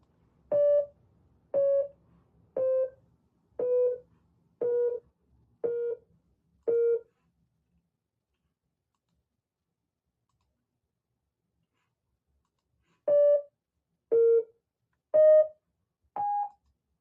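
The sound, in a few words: image pixel brightness translated into sound tones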